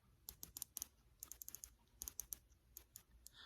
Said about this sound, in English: Hear the clicking?